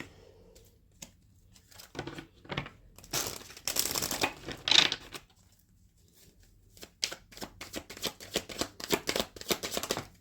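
Tarot cards shuffled by hand in several quick bursts of riffling and crisp flicks, with soft pauses between, close and fairly quiet.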